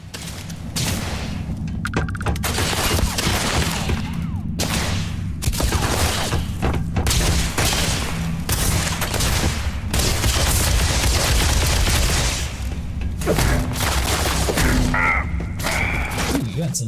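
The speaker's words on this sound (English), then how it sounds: "then immediately started shooting" An enemy guard opening fire in the Starfield game, sustained loud bursts of gunshots and thumps repeating through most of the stretch, with talk mixed in over the shooting.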